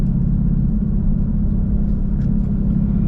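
Ford Mustang GT cruising, a steady low engine drone and road rumble, close and even with no clear gear change, no voices.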